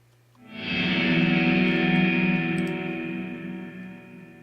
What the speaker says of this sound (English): that's what it sounds like when you put way too much reverb